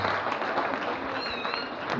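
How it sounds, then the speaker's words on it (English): An audience of secondary school students applauding at a school visit, a steady wash of clapping throughout the brief moment with a faint voice or squeak above it. "A wonderful round of applause for them."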